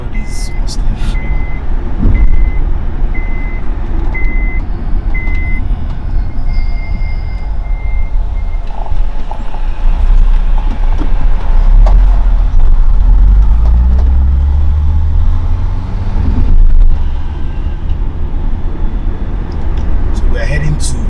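Busy road traffic with trucks and cars on a normally quiet road in Enugu, Nigeria: a steady loud rumble of engines passing close by, with heavier low-end surges toward the end and a beeping tone early on.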